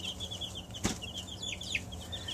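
A chicken briefly flaps its wings with a short whoosh, while soft clucks and chirping from small chicks continue quietly around it.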